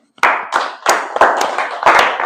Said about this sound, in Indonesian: Nah, kita berikan tepuk tangan dulu.